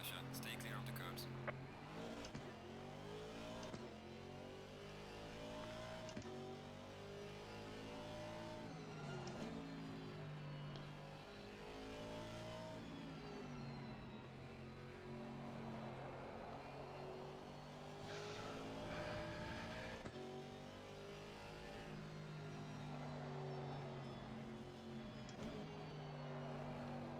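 GT4 Aston Martin race car in a racing video game at Suzuka, its engine droning and revving steadily through the laps on cold tires with low pressure, shifting pitch as it accelerates and brakes, while a voice talks over it.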